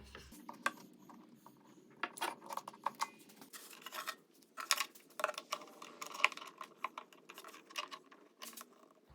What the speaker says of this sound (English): It's time to put this clamp on.